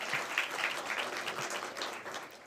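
An audience at a school board of trustees voting meeting applauds in a steady wash of clapping that holds evenly for a few seconds with no talk over it.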